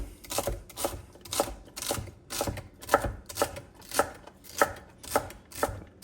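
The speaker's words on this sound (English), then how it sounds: "I'm starting with 3 sticks, and I like to cut them up fairly small." Knife chopping three celery stalks into small pieces for Southern cornbread dressing, a steady rhythm of about two crisp chops per second on a cutting board, close and clear, with no talking.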